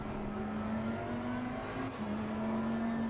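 Race car engine in Assetto Corsa Competizione held at a steady high drone while braking hard into a corner, with a sustained tonal whine that dips briefly and returns, no voices.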